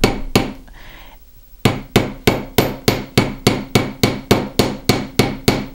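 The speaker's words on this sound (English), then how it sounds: "Just going to hammer flat." Rapid, evenly spaced hammer blows tap on a fine silver clasp, flattening the fused seam; a sharp rhythmic series of close strikes after a brief pause.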